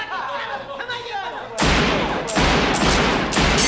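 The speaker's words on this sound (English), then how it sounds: "he's gonna shoot his feet." A man is shot in the foot in the 1990 film Goodfellas. Loud, sudden gunfire bursts out after quieter film dialogue, while viewers talk and react over it.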